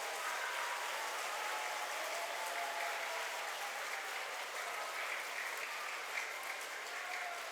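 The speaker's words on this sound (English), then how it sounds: "Now clap loudly. This is for all the students who are sitting here," Schoolchildren at a Republic Day celebration clap loudly and continuously, a dense, steady wall of applause from a large group that holds at an even level throughout.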